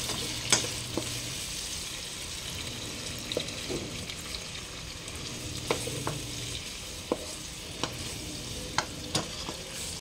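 Tomatoes are stirred and crushed in a hot frying pan, with steady sizzling throughout and occasional soft scrapes and taps of a utensil against the pan, close by and without talk.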